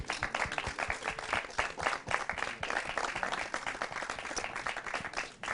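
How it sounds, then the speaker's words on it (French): An audience at a live televised media event in a hall claps steadily and briskly, a dense run of individual hand claps without talk over it. "Alors, vous pouvez l'applaudir."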